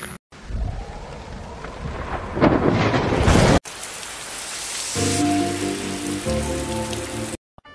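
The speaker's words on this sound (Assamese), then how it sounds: "ইফালে বৰষুণ আৰু ষ্টাৰ্ট হৈ গ'ল" Heavy rain pours steadily with loud rumbling thunder during a monsoon storm in Assam, the downpour continuing after a brief cut while a low tonal hum joins in later.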